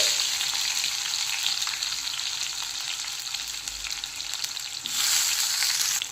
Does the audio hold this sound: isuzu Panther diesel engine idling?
no